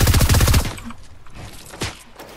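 Gunfire in the video game Fortnite, a fast burst of loud rapid shots at the start and then a few scattered distant shots over quieter game ambience.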